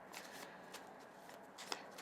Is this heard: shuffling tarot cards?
yes